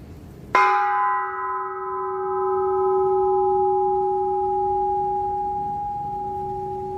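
A single bell is struck once and then rings on with a long, steady, humming decay, heard outdoors at an ofrenda-like shrine in Hanoi, Vietnam, with no talk over it.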